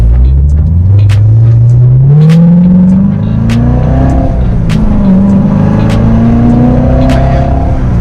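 A car engine revs loudly up through the gears while driving, pitch climbing then dropping at each shift, with sharp pops and crackles, close and dominant.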